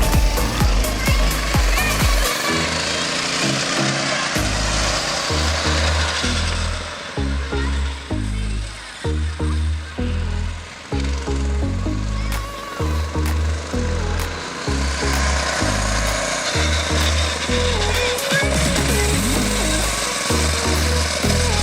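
Small Alligator go-kart engine buzzing through laps around a parking lot, its pitch surging and dropping in repeated cycles as it accelerates and slows, loud and continuous for the whole stretch.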